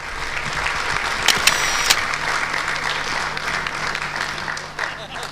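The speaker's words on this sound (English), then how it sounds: "Let's give them a nice round of applause." Audience applause at the 2008 Encore Awards fills the room as a steady, dense wash of clapping that holds at an even level from start to finish, with a voice faintly present beneath it.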